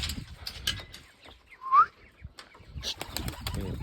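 A Polish Lynx pigeon beats its wings in flight, with a short burst of flapping that rises briefly above a low, quiet outdoor background.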